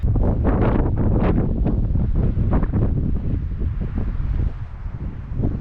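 Strong wind, gusting up to 75 miles an hour in the Guadalupe Mountains, Texas, buffets the microphone in loud, rumbling gusts that roar almost constantly, easing slightly toward the end.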